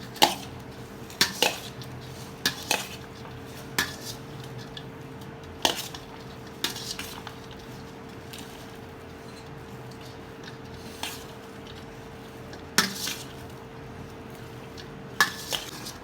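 Spoon clinks and scrapes against a bowl while onion, cabbage and tomato are mixed for a spicy dahi vada chaat, with sparse irregular taps over a steady low hum and no talking.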